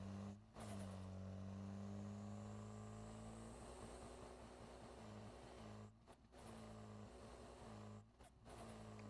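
In the driving game Drive Beyond Horizons, a car engine revs while towing other vehicles, a sustained droning note shifting in pitch with a few brief dropouts as gears change.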